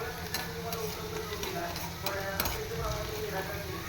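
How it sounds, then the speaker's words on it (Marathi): Vegetables stir-fried over a high gas flame: a steady close sizzle with quick scraping and stirring clicks throughout, with no speech. "फास्ट गॅसवर आपण सगळ्या भाज्या स्टर फ्राय करून घेतो."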